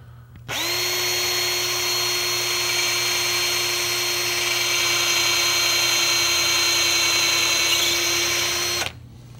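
A power drill spins a screw into wood, one steady high whirring run of about eight seconds that starts and stops abruptly, close and loud with no voices.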